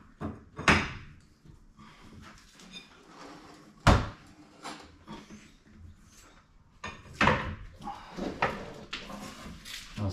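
A roll-up door's spring is wound with a bar inside a DIY crawler hauler, giving several sharp metallic clanks and knocks at irregular intervals with quieter rattles between, close by, without talk.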